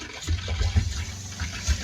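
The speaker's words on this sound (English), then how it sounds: "We'll hear the pump kick in and we'll see the pink start to flow out of the faucet here" Pink RV antifreeze gushes steadily from a faucet while the RV's water pump runs during winterization, a continuous close splashing flow with a low pump rumble underneath and no talking.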